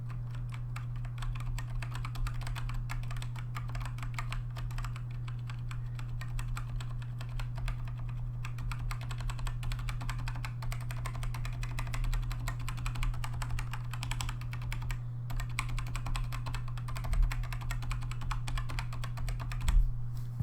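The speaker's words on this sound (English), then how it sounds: "Now I'll do a quick actual typing test" Steady typing on a Corsair K55 keyboard with soft, muffled keystrokes in a continuous run, close by, over a constant low electrical hum.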